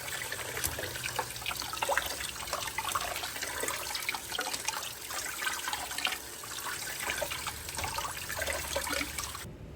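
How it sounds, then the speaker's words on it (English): Cranberries rinsed under a running kitchen sink tap, a steady close splashing stream of water that keeps going throughout with no talk. "So now I'm just gonna take them really quick and rinse them in the sink"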